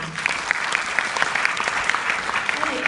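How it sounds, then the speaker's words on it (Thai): A room of people gives a round of applause at a Nu Skin business talk in Thailand, loud, dense clapping close by with sharp individual claps standing out, continuing steadily throughout. "ขอเสียงปรบมือน้องมดด้วยค่ะ"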